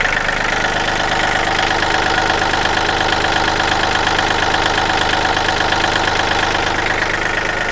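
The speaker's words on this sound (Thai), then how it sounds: "มาดู เครื่องยนต์ครับ" A tractor's diesel engine idles steadily nearby, a loud continuous chugging rumble with an even rhythmic knock throughout.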